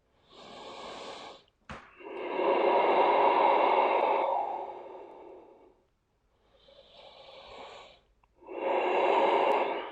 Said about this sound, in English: And we're breathing here.